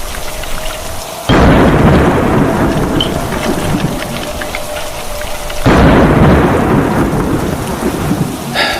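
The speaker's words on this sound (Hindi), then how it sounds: "ये बारिश रुकने का नाम ही नहीं ले रही।" Heavy rain pours steadily and loudly, with dense hissing that swells in two strong bursts, alongside a low rumbling.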